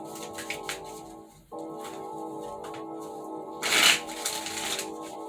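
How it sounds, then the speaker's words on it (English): Tarot cards riffle and flutter in a soft shuffle, with a steady tonal hum underneath and a louder crisp burst of shuffling toward the end. "2 more shuffles for the fixed signs"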